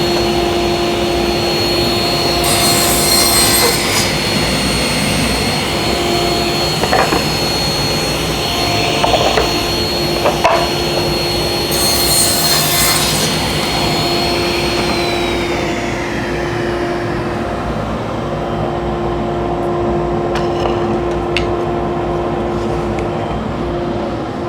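A table saw fitted with a Biesemeyer fence rips wood parts under the constant roar of dust collection, with a steady motor whine and a few bursts of cutting, then the blade spins down near the end.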